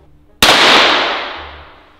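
A single loud gunshot fired at a cheap Wish bulletproof vest during an outdoor test, a sharp sudden crack ringing out and decaying over about a second, with quiet before it.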